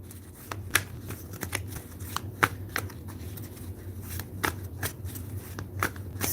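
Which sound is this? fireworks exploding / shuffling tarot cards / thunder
shuffling tarot cards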